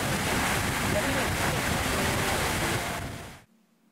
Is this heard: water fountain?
yes